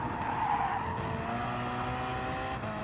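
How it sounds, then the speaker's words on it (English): A Porsche race car spins and skids in the GT Sport racing game, tires squealing loudly for a couple of seconds over the steady drone of engines. "the Porsche behind us spinning and into the barrier he goes"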